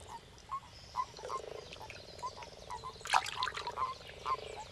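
Frogs and toads calling in flooded Danube backwaters, a dense chorus of rhythmic croaks and trills at moderate distance, steady pulsing with a brief louder burst midway.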